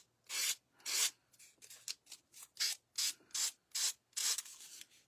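Wood shims being hand-sanded smooth, about ten steady back-and-forth rubbing strokes close up, with short pauses between them and no talking.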